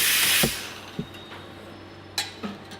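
A loud burst of steam from an espresso machine steam wand being purged hisses for about half a second, then stops, followed by a few light clicks and knocks.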